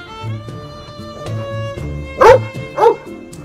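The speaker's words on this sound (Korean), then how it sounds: "여기 강아지가 있을 이유가 없잖아. 그래 왜 이렇게 짖어." A dog lets out two sharp barks over background music, close and loud, spaced about half a second apart near the end.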